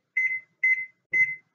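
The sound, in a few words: kitchen timer beeping while cooking rice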